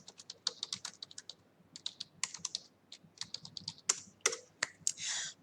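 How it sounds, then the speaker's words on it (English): Rapid, uneven keystrokes on a computer keyboard, close and crisp with short pauses between bursts, ending in a longer run of clatter; no voice. "I keep forgetting I can use my keyboard if I want to."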